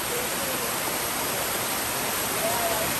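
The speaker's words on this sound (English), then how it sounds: "Let me just get a shot of this water coming down." Cold water cascading down a waterfall at Venetian Pool in Coral Gables, Miami, a public pool; a loud, constant broadband rush of falling water, close and unbroken from start to finish.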